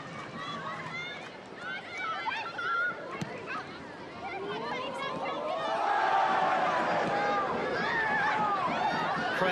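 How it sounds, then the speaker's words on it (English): A crowd at a women's A-League football match in Porirua, Wellington Phoenix against Western United, keeps up a steady roar of cheering and shouting that swells toward the end, with a commentator talking over it. "Crowd really enjoying themselves now here in Porirua."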